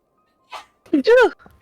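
A single character sneezes in a Final Fantasy XIV cutscene, a short sharp intake followed by a voiced burst, close and clear against silence.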